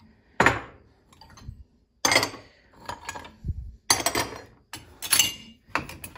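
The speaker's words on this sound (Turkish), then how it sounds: "Bulaşık makinesi çalıştırıyorum." Dishes and cutlery clink and clatter in sharp, irregular bursts as a dishwasher is loaded in a home kitchen, close and fairly loud, with no talk.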